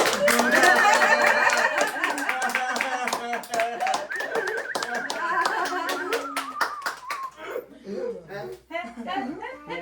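Hands clap in a rapid, steady run of sharp claps that carries on throughout, close and fairly loud, with voices talking and calling out over the clapping.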